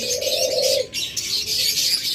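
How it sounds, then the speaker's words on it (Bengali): A pair of spotted doves coo low and steady against a constant hiss of high chirping birds, one drawn-out call trailing off midway. "এইরকম দোড়া ডাকতেছে ঘুঘু পাখি"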